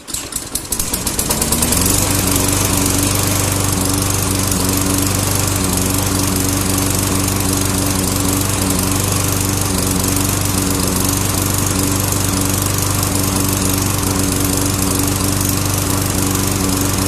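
A Toro 20016 lawnmower from around 2006, freshly tuned up with a new carburetor, sputters briefly on the start then settles into a loud, steady, even running drone close by.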